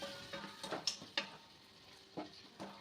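Onions and tomatoes with salt sautéing in a pan for seeraga samba kuska rice. Faint, quiet stirring scrapes and soft sizzling come in a few brief, irregular bursts.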